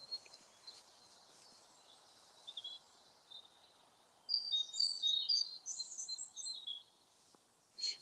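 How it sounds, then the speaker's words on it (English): Faint bird calls in deciduous woodland at first, then a louder burst of bright, warbling birdsong for a few seconds before fading back to quiet. "quiet as long as I can hear the birds."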